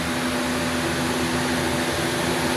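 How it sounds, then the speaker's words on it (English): Appliances run together on a portable solar power station: a vacuum cleaner, a box fan and space heaters. They make a constant, even roar of motor and airflow with a steady hum underneath and no speech. "I've got 2 space heaters, and I've got a box fan, I've got another space heater, I've got a vacuum cleaner"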